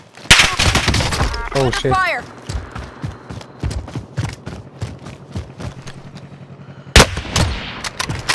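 Sniper rifle shots and bursts of gunfire in a squad battle royale video game, several sharp cracks spread through the clip with a louder volley near the end, under excited player chatter and shouting.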